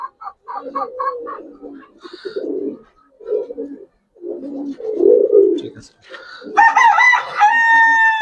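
Young Giribaz and coloured fancy pigeons coo in a loft, giving a run of soft, rolling, throaty coos close by. A sharper, drawn-out harmonic call rings out near the end.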